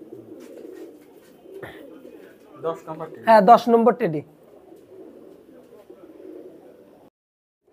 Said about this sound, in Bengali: এই জোড়া আছে ভুচাল কবুতর